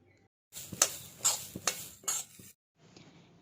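Sesame seeds dry-roasting in a pan with a little orange peel, stirred with a utensil: several distinct scraping and rattling strokes with faint crackle, near and fairly quiet, separated by brief silences.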